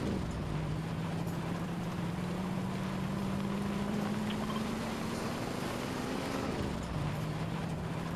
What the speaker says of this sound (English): I'm just gonna keep driving.